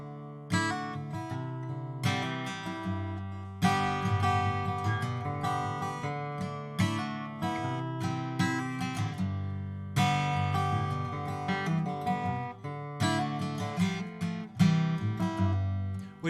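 A stringed instrument in an open tuning strums ringing open chords in a steady, full rhythm, close and sustained for the whole stretch with no voices.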